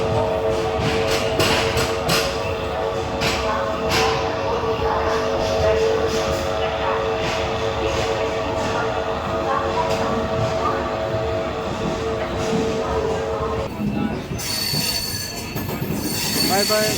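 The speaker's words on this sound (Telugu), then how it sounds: "ఆన్ టైంకే ట్రైన్ అయితే స్టార్ట్ అయిపోయింది 12:55 విశాఖపట్నం 8th ప్లాట్ఫామ్ నుంచి" Ratnachal SuperFast Express (12717) pulling out of platform 8 at Visakhapatnam junction, heard from on board: loud, continuous rumble of wheels and cars with steady wheel squeal and metallic clatter, voices faintly under the noise.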